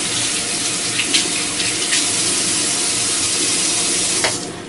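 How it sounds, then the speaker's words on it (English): A kitchen tap runs steadily for a quick hand wash, a close, constant hiss of water with faint splashes and no talking. "I'm just going to give my hands a quick clean."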